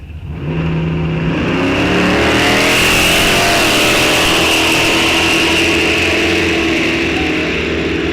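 A 55 Chevy and a 57 Chevy launch side by side down a drag strip at Rock Falls Raceway, two engines blasting into a loud continuous roar that holds for several seconds.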